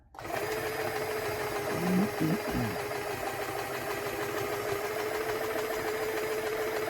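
An old Jaguar sewing machine, around forty years old, stitches steadily through twenty layers of material, a close, continuous mechanical whir with a brief louder knocking burst early on.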